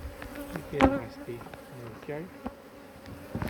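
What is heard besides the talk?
bees buzzing around an Omlet Beehaus beehive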